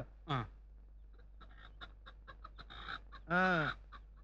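A hen clucks in short, close bursts, with one quick call near the start and a louder drawn-out squawk later, separated by soft scattered clucks over a low hum.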